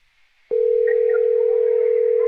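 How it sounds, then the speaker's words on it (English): A telephone call's tone starts abruptly after a brief quiet moment and then holds as a steady, clean, unbroken tone. "There it is, ringing."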